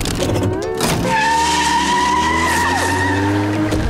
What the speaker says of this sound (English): He tears through the boating school and runs amok, recklessly driving his boat around.